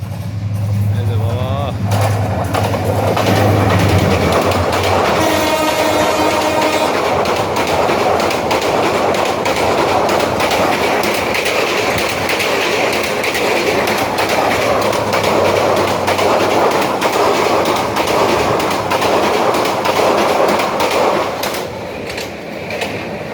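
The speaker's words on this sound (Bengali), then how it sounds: "এই যে এখন একটা ট্রেন যাচ্ছে রেল" An air-conditioned passenger train rushes past close by on the railway at Sitakunda, Chattogram, with loud, sustained rumbling, rhythmic wheel clatter and a brief metallic squeal near the start.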